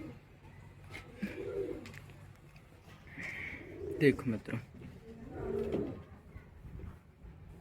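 Pigeons coo softly in low, rolling calls close by at a pigeon loft, while someone talks over them.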